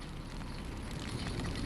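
A fire burning in the Kamala horror game gives off a dense, continuous crackling roar with a broad noisy rush, steady and fairly close with no voices over it.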